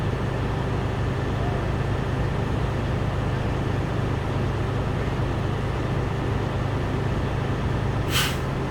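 A truck idles while its air brake tanks fill, giving a steady low engine rumble and broad, constant noise, with a brief hiss near the end and no talk.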